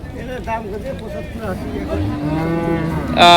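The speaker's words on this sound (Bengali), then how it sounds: "আমার সামনে একটা মহিষ রয়েছে" A water buffalo lets out a long, deep moo close by, amid a busy buffalo and cattle market with people chattering all around.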